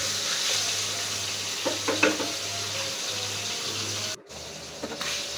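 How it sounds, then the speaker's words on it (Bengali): Fish fries in a pan as it is turned over, a steady close sizzle broken by a few soft scraping bumps, then cutting to a quieter hiss near the end. "এই যে উল্টিয়ে পাল্টিয়ে আমি মাছটা ভালো করে ভাজি করে নেব"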